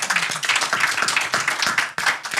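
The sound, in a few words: applause and clapping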